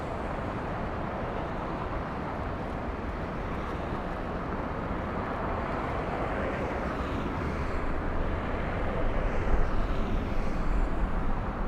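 Big passenger jets at LAX airport give a steady, loud broadband roar that swells slightly toward the end, with no talking.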